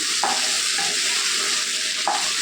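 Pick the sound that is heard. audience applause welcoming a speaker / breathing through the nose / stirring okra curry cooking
stirring okra curry cooking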